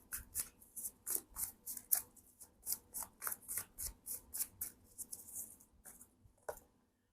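Tarot cards shuffle in quick repeated riffling bursts, a rhythmic series of crisp flutters close up, with no talking.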